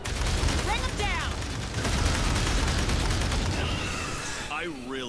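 Sustained gunfire from a weapon in Aliens: Dark Descent, steady rattling shots under game effects, creature screeches and squad radio chatter throughout.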